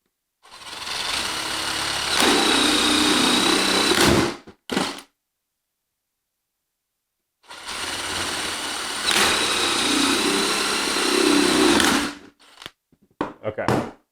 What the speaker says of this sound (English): we're going to drill the screw holes in here as well to really cinch this thing down